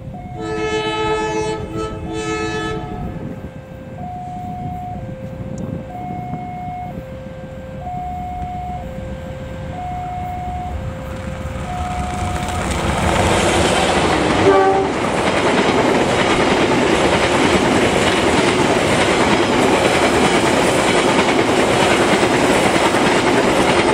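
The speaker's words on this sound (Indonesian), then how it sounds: "lokomotif CJ-01 yang melaju kencang menarik rangkaian" A train horn sounds in repeated two-tone blasts, then the loud roar and clatter of locomotive CJ-01 hauling a passenger train at speed builds and fills the rest, with no talking.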